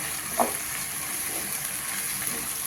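Pork roast with sliced onions fries in a pan, a steady soft sizzle with a brief stirring scrape near the start, fairly faint and with no talking.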